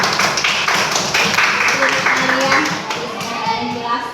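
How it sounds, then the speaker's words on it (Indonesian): Classroom applause for a student named Leo during a Catholic religious education lesson: a sustained patter of many hands clapping, fairly loud and steady, with children's voices mixed in. "Kita berikan aplaus untuk Leo."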